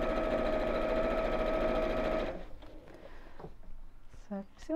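A sewing machine stitches a drawstring bag in a steady fast whirr for about two seconds, then stops, leaving quieter handling noises and a voice talking.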